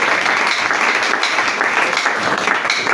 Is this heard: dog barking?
no